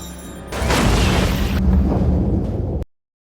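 A grenade blast tears apart a room in a film scene, one loud sustained roaring explosion with debris rumble that holds for about two seconds before cutting off abruptly to silence.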